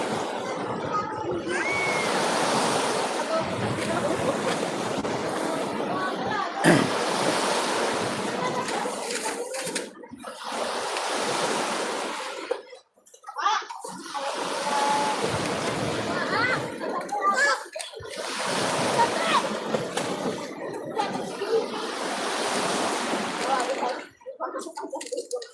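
Sea waves washing onto a beach shore in a steady rushing wash that swells and recedes, with people talking and children playing nearby over the surf.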